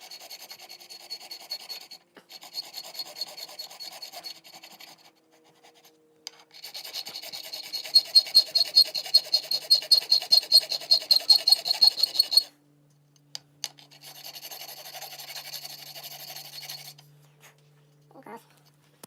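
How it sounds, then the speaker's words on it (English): A rasp files the wooden stock of a swivel breach rifle kit in rhythmic strokes, coming in bursts with short pauses and speeding into a fast, loud run of scrapes before stopping. "Maybe I should have Gabby doing the rasping."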